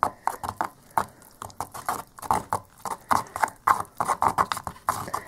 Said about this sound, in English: I'm just stirring until the consistency turns into sort of a paste-like consistency